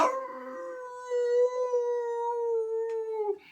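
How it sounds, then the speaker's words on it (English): A wolf's long, rising and falling howl rings out close and loud for about three seconds as a storytelling sound effect, steady and drawn out before fading. "The wolf howled and was gone, and was never seen again."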